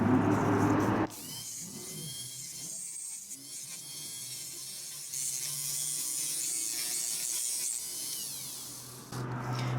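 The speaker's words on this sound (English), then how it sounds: "but we can smooth that out with the Dremel." A Dremel rotary tool grinds and smooths rough metal pieces for a small fire spit, a steady high whine with gritty scraping that shifts in tone as the bit presses, close and continuous.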